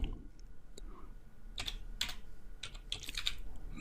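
Computer keyboard typing during a coding session, with bursts of quick key clicks separated by short pauses, close and fairly clear.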